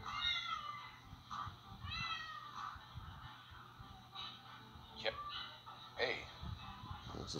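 A cat meowing in a few short, faint calls indoors, heard beneath and between people talking.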